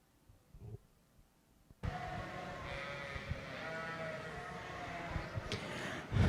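Dorset winter ewe lambs in a livestock show ring, with a few faint bleats at first, then a steady arena murmur with occasional louder bleats rising over the crowd noise.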